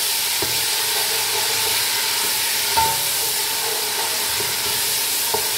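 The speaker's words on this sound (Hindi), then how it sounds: "मैं डाल दूंगी ये जो प्याज हमने क्रश किए थे ये डाल दूंगी मीडियम और लो फ्लेम पे" Crushed onions sauté in olive oil over medium-low flame for dal tadka, giving a steady, close, continuous sizzle with a few faint clinks of a utensil and no talking.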